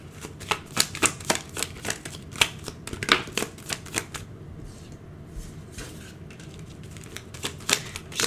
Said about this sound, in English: So I'm just going to pull some cards here.